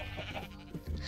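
A sheep bleat from Minecraft, one short wavering call heard over faint game background sound.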